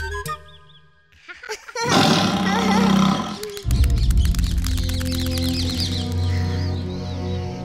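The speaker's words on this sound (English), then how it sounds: "It sounded like a tiger came from over there." An animated tiger lets out a loud, close roar, followed by growling and snarling, with birds chirping and cartoon effects mixed in around it.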